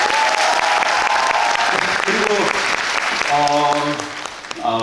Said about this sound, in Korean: 진심으로 감사의 박수 드립니다